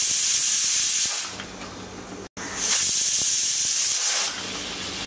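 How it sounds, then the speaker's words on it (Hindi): A pressure cooker over a medium gas flame, cooking dal for sambar, lets out a loud sustained steam hiss twice, each blast broken by a short silent gap, with no talking. "कुकर को ढक्कन लगाकर मीडियम फ्लेम पर 4 विसल होने देते हैं"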